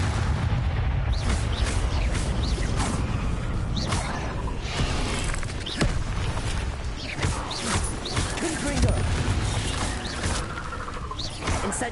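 The Confringo fire-blast spell in Hogwarts Legacy fires over and over, each cast a loud booming burst stacked on dense, rumbling combat noise that continues throughout.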